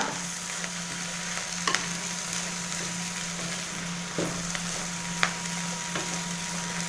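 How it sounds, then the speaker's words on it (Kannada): Steady sizzle from beans and sambar powder frying in a pan while being stirred, with occasional faint scrapes of the spoon, continuous and close. "ಇವಾಗ ಚೆನ್ನಾಗಿ ಮಿಕ್ಸ್ ಮಾಡ್ಕೊಳ್ಳೋಣ"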